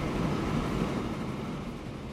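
An old train in the Transport Fever video game rumbles along with a steady, dense mechanical roar, loud and continuous with no voices.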